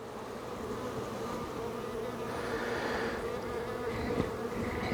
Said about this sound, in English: Bees just feeding because of the smoke.